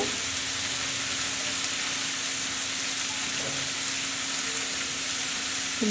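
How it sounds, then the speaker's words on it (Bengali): Ginger and garlic frying with onions and whole garam masala for beef biryani, a steady soft sizzle with a faint low hum running throughout, no voices. "ভাজার এই পর্যায়ে আমি আদা রসুনগুলো দিয়ে দিব"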